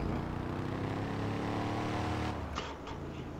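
A hearse driven in GTA V, its engine droning steadily and close as the car turns, with a brief tire or impact noise near the end and no voices.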